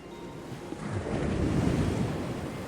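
Ocean surf rolling onto a sea beach, a steady broad wash that swells louder midway and holds, with wind rushing across the microphone and no voices.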